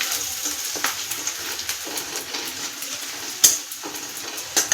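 Garlic and ginger frying in a pan, a steady sizzle with light scraping and stirring clicks throughout, close and fairly loud with no talk.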